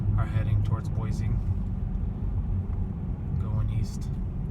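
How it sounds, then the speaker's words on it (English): Traffic on a freeway near Meridian, heading toward Boise, makes a steady low rumble of passing cars, with a person talking over it throughout. "The cars on the right side are heading towards Boise,"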